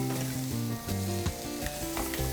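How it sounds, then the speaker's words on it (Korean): Shrimp and vegetables stir-fry in a hot pan for fajitas in a school cafeteria kitchen, a loud steady sizzle broken by a few scraping stirs, close up and without voices. "새우랑 그 다음에 채소를 살짝 볶으시다가요"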